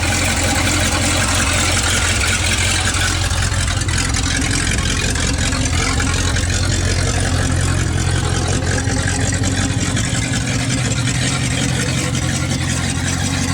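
A 1971 Plymouth Valiant engine idling with its fuel mixture slightly off, a loud, steady close-up rumble with a continuous rough exhaust drone and no talking.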